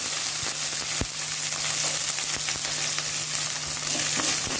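Onion sizzles in hot oil with mustard seeds and curry leaves, a steady close frying hiss broken by light crackles and pops, with no voices.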